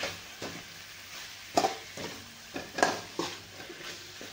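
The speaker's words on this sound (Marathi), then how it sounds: "वांग चांगलं आपल्याला परतून घ्यायचं ह्याच्यामध्ये." Chopped eggplant sautéing in oil for a Marathi-style kharvange dish, soft background sizzle punctuated by several sharp spatula scrapes and knocks against the pan at irregular intervals, no voices.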